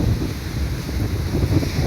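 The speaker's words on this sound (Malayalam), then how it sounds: "നല്ല കാറ്റാണ് കേട്ടോ" Strong wind blowing at a beach on an overcast evening, a loud continuous roar buffeting the microphone with surf rumbling underneath.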